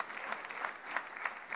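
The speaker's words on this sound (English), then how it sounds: "please clap for that" Scattered clapping from a small audience at a school jazz day event, faint and somewhat distant, with individual claps standing out irregularly.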